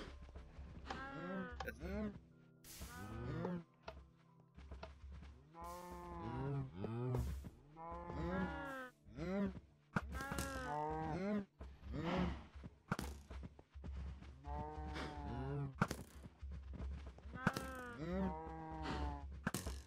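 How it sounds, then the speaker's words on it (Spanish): A Minecraft cow moos again and again, loud and close: a string of drawn-out, resonant lows with short pauses between them, alone without other sounds. "Esta vaca se quedó atorada."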